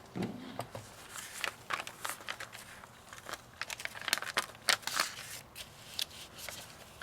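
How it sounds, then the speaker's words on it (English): Scissors snip through paper for handmade Easter pen pal mail, a run of crisp, close, irregular cuts with faint paper crinkling between them, no voices. "we're going to cut it right there"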